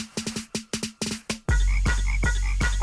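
Big frogs croak in a quick rhythmic series of short, clicky calls, then switch to louder, fuller croaks repeating at a slower pace.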